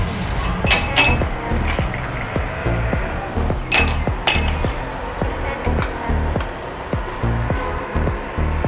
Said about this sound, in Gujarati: આપણે બરફના ટુકડા નાખશું.